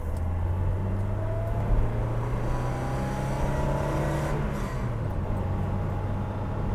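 BMW 2002tii engine pulling hard from inside the cabin, a steady droning tone that climbs in pitch through the rev range and then falls at a gear change, loud and continuous, with road noise underneath.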